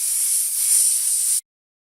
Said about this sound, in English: A snake goes.